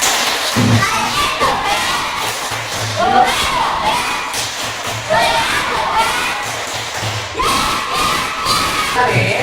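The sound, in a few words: children doing a rhythmic spirit clap chant in class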